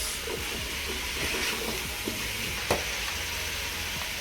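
Okra stirred into fish broth in a cooking pot, giving a steady sizzle and bubbling hiss with soft scraping stirs and a brief clink near the end.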